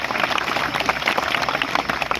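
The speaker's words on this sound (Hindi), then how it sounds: "जोरदार ताली।" Loud, dense applause from an audience at a school science exhibition, steady clapping throughout with no talk over it.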